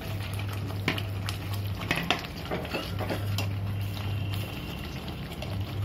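Chicken pieces dropped into a pot and stirred, giving close clattering metal scrapes and knocks over a constant bubbling frying hiss that continues steadily for the few seconds.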